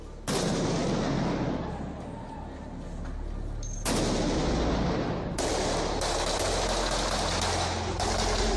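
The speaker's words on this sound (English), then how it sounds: "some blank rounds of gunfire pinging off the high-rises here in downtown Miami." Blank gunfire rounds in downtown Miami crack sharply and echo off surrounding high-rises, several loud reports spaced a few seconds apart with long reverberant tails, heard outdoors at moderate distance.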